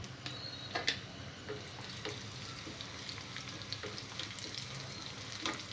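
Tempering of seeds, garlic, dried chillies and curry leaves frying in hot oil, a faint continuous crackle and sizzle with scattered small pops and light ticks, heard alone without talk.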